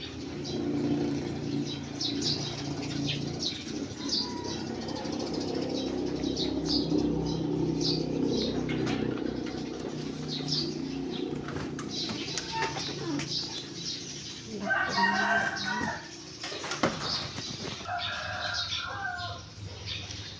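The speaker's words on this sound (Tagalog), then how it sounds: "Sobrang ingay ng mga ibon dito" Birds chirp and coo around a simple house in the countryside, steady and noisy throughout, with fluttering wings and a brief louder burst of calls near the end; a faint voice is heard at times.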